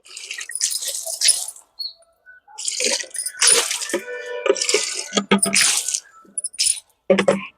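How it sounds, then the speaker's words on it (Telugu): Water sprays onto plants in several splashy, hissing bursts separated by short pauses, close by. "ఇలా నీళ్ళు జిమ్మగానే మొక్కలు అయితే చాలా కలకలలాడుతూ ఉంటాయండి"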